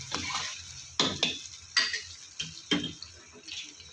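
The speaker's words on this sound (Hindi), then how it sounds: "थोड़ा सा भूनने के बाद अब हम इसमें टमाटर का पेस्ट भी डाल देंगे" Tomato paste is stirred into a pan of frying kofta curry masala, giving a soft simmering sizzle broken by several sharp scrapes and clinks of a spoon against the pan, close up with no speech.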